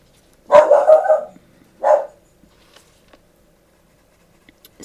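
A small dog gives a quick cluster of close barks, then one more bark after a short pause, followed by near silence with faint scuffs.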